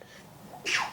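One sharp sneeze from someone in a workshop room, quiet room tone first, then a loud burst near the end.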